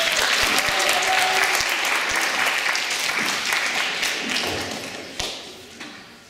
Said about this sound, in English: Please give your candidates a warm round of applause.